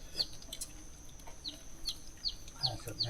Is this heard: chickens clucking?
yes